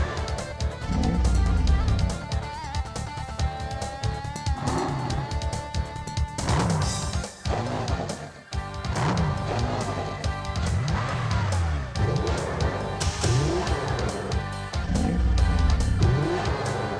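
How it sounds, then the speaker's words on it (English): Race car engines from the Stunt Track Driver PC game growl and rev in quick succession, each one rising and falling over a game backing track. "All 12 cars and their distinctive growls."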